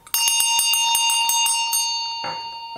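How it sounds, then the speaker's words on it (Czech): A bright bell rings in a quick run of repeated strikes, then one last strike that lingers and fades, clear and close with no voices. "zazvonil zvonec"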